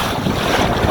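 Strong wind buffets the microphone on open sea aboard a small single-handed monotype sailboat, a dense, steady roar with wave wash and no voices.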